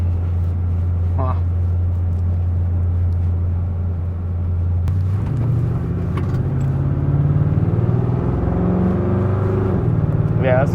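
A car engine fitted with a Quadrajet four-barrel carburetor on a one-inch spacer, its secondary barrels not opening fully, drones loudly from inside the cabin with a steady low hum that rises and roughens as it accelerates midway.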